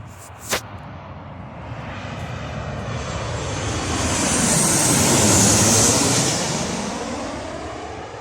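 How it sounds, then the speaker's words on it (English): An Airbus A320 airliner passes overhead, its jet roar swelling steadily to a loud peak and then fading away, broad and continuous, after a brief sharp knock near the start. "I probably presume it would have been an Airbus A320, but not the Neo version."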